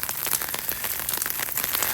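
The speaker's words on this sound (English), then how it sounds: "It's getting even stronger, the rain." Rain falling on a California garden, a dense continuous hiss of drops striking surfaces nearby, steady and moderately loud with no voices.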